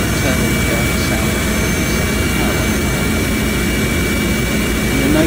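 A police helicopter's engine plays back from a video as a loud, steady roar of turbine whine and broadband rotor noise, constant throughout with no letup.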